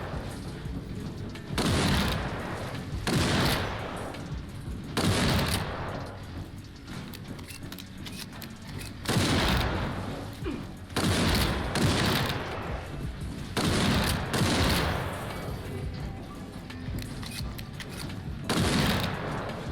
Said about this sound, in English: But it's a shotgun.